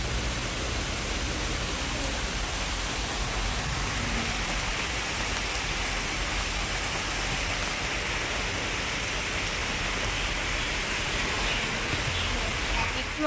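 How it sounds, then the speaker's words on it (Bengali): Steady rain falls outdoors in a continuous dense hiss, even and unbroken throughout, with no talking over it. "কি দারুণ লাগছে বৃষ্টিটা।"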